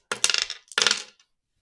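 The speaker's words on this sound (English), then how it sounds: "I'm going to throw all the dice here" Dice are thrown onto a surface in two quick rattling bursts, each a cluster of sharp clicks and clatters that settles within half a second, close and fairly loud with silence after.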